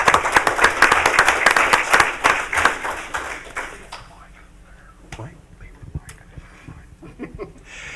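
Brief burst of audience applause for a group of young people at a June 2017 meeting, dense clapping for about four seconds that quickly thins to a few scattered claps and quiet room noise.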